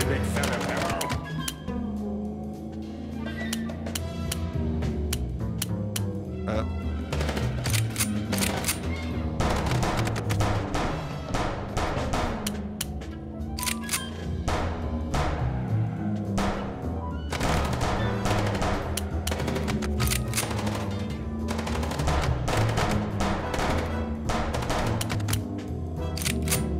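Chaotic video game shootout in Chicken Police, guns firing at a car during a chase, with scattered sharp shots over continuous music and engine noise.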